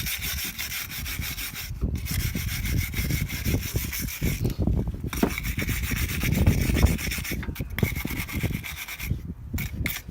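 Stickers are scraped off car brake calipers in uneven bursts of close rubbing and rasping strokes with brief pauses between them, and no one speaks.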